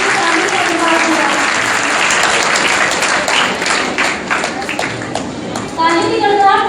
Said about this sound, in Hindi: एक जोरदार ताली के साथ स्वागत कीजिए दामिनी अग्रवाल का।